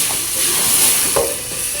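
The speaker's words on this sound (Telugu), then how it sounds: "మంట పైకి వచ్చేలాగా సింపుల్ గా తిప్పుతున్నాడు" Green chillies and grated radish fry in a pan over a high flame, with a steady loud sizzle and hiss and a few soft scraping stirs underneath.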